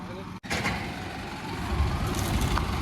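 A six-wheel truck's diesel engine runs as the truck is moved, a steady low rumble that builds slightly toward the end, with a brief dropout early on and someone talking over it.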